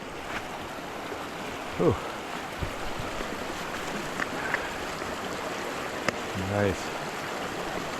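A mountain creek runs steadily through a snowy winter forest, its broadband rush constant and near, with a brief exhale and a short spoken remark over the water.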